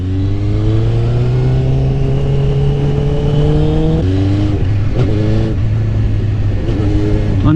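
A Suzuki GSX-R 600 motorcycle engine runs loud and close, with its pitch climbing steadily before dropping into uneven, choking stutters as the throttle falters.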